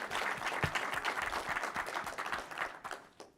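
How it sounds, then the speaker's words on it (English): An audience at a developer conference applauds for winners of the 2023 Microsoft Store App Awards: a dense, steady wash of many hands clapping that fades out near the end. "Please join me in giving these winners a round of applause."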